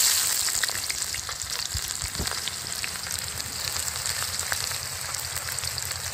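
Chopped onions fry in hot oil in a pot with bay leaves and cinnamon, giving a steady, dense sizzle that runs without a break from start to end, with no voices.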